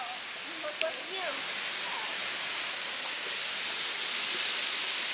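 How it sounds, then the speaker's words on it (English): Large waterfall at Gozalandia, a steady, loud broadband roar of falling water that fills the scene without pause, with a brief voice or bird-like chirp near the start. "Wow, look at this waterfall."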